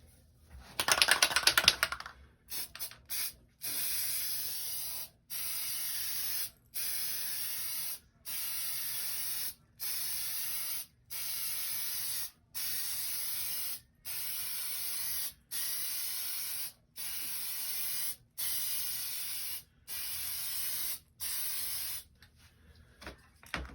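An aerosol can sprays Plasti Dip rubber coating onto a Pelican case in a long run of regular, evenly spaced hissing bursts, each about a second long with brief gaps, after a short rattling start, close and without talk.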